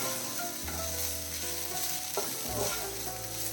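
Grated coconut dry-frying in a pan and being stirred with salt, a steady broadband sizzle and scraping with occasional utensil knocks, close and continuous, no voices.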